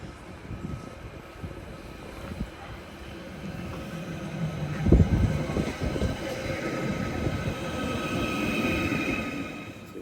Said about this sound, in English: And unfortunately, it's the Ellesmere Port train.